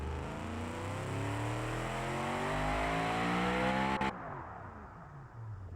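A V8 drift truck engine in a simulated car game revs up steadily for about four seconds, climbing in pitch loudly, then cuts off sharply and drops to a fading decay.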